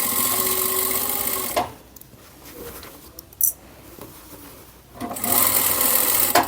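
A sewing machine backstitches over a fabric bag handle, running in a fast, loud burst, pausing for a few seconds of quiet handling noises with a single soft knock, then starting up again at full speed.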